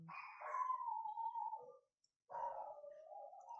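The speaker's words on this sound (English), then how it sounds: "And there goes my dogs." Dogs howl at close range in two long, wavering calls separated by a short silence, with no other sound around them.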